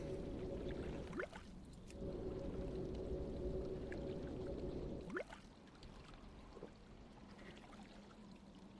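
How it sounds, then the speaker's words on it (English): An undead mage conjures water in Classic World of Warcraft, a soft liquid pouring shimmer that rises, holds steadily for a few seconds, then repeats, fairly quiet and without speech. "Let's conjure up some more water."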